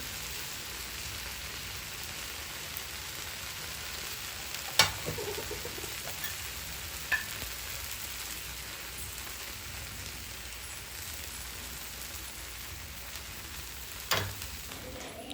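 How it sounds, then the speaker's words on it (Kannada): Garlic bread roasting in a pan, a soft steady sizzle like light rain that runs throughout, with a few brief clicks and taps of utensils. "ಎರಡು ಕಡೆ ಇವಾಗ ರೋಸ್ಟ್ ಮಾಡ್ಕೊಳ್ಳೋಣ"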